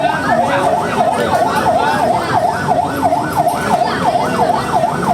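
Several emergency vehicle sirens wail together from behind, their rising-and-falling tones looping steadily and loudly at the scene of a train crash, over a dense rumble of traffic.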